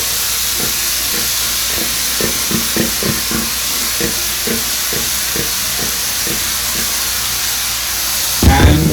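Thai-style pork stir fry with marinade sizzles steadily in a hot pan, a loud continuous hiss with scattered stirring scrapes and taps, ending in a brief clatter.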